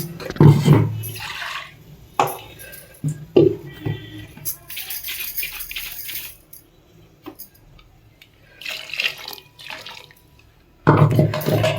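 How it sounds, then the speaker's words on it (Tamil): A mixer grinder jar is washed with water in a home kitchen, with intermittent bursts of running and splashing water, short sloshes and a few light knocks separated by quieter gaps. "மிக்சி ஜாரை கழுவிக்கலாம்"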